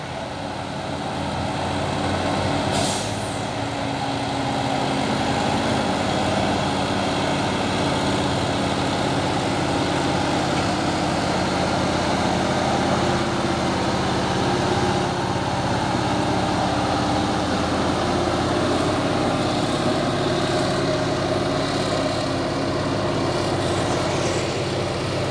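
A Hino box truck engine labors steadily as it climbs a hill, a continuous loud low rumble with droning traffic noise throughout and no pauses.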